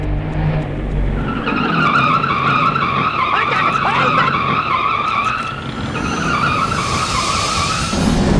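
A truck brakes hard and its tires skid in a loud, continuous squeal that lasts several seconds over a rumbling engine, close and without a break.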